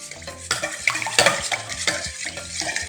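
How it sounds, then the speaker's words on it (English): Chicken tender batter is mixed in a bowl: a utensil scrapes and clicks against the sides in irregular strokes, close and moderately loud, with no voices. "Now we should mix our batter."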